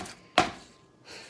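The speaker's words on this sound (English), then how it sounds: "then you just start chopping" A kitchen knife makes a single sharp chop through fresh garden ingredients for Italian bruschetta, close and crisp against near silence.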